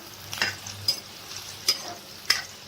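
Soybean chunks roasting in a pan for a mixed vegetable dish, stirred with a utensil: four sharp scraping strokes spaced across a quiet background with a faint low sizzle, close and moderately loud.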